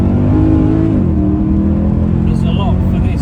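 A Mercedes C63 AMG (W204) engine roars and revs loudly up close, a deep continuous growl that rises and shifts pitch over a few seconds.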